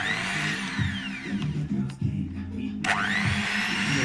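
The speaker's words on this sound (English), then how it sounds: "So you're gonna start whisking your cream, right?" An electric mixer starting on low speed to whisk cream, giving a steady whirring drone with the motor pitch sliding down and then rising again as the speed changes.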